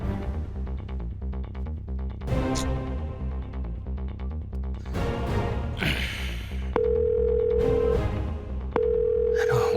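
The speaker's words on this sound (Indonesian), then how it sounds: "saya coba telepon security" A telephone call rings out unanswered, heard as two long steady tones with a gap between them, cutting in after a stretch of music and background sound in a drama scene.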